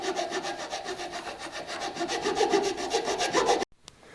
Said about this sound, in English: Just trying to smooth things up a bit with a rasp.